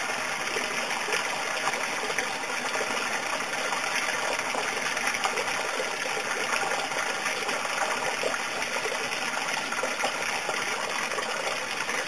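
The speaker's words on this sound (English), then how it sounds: "A lot of water comes out of that bed." Water gushes out of an aquaponics grow bed through an auto siphon in a steady, loud rushing flow, continuous and unbroken throughout, with no voices.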